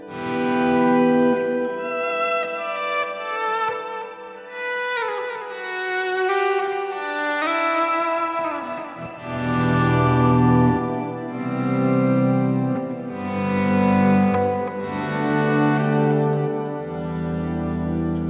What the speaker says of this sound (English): soaked is going to do the auto swell kind of thing.